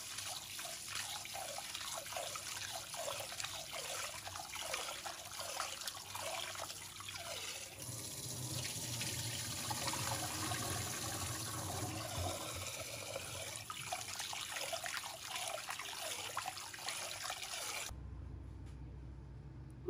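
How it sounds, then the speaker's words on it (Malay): Glutinous rice being washed under a steadily running tap, water splashing and swirling continuously in a sink, with the flow cutting off abruptly near the end. "basuh sehingga bersih."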